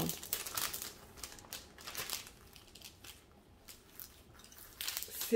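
Plastic sheet over a diamond painting canvas crinkles and rustles as a ruler is pressed and dragged across it to smooth out creases, a soft, irregular close-up crackle with brief louder bursts.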